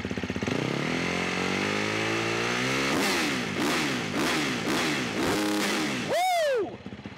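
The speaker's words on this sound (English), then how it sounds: "We've got an Akrapovic on this one, titanium muffler. Let's see what she sounds like." Husqvarna FC 350 dirt bike with an Akrapovic titanium muffler, close and loud: the engine climbs steadily from idle, then barks through a series of sharp rev blips before a final high rev and drop.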